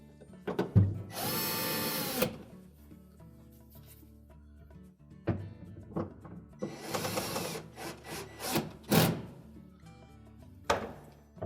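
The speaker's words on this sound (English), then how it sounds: "With the evaporator fan cover in position, we'll put a couple screws in the bottom just to hold it in place." Power driver running screws into a GE refrigerator evaporator fan cover: a few sharp, whirring bursts of the motor, each a second or so long, separated by clicks and handling noises.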